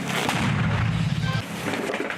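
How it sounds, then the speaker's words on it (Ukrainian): A loud, deep boom of a mortar shot fired in combat near Bakhmut, with heavy low rumble lingering for about a second and a half before settling into outdoor ambience. "Постріл!"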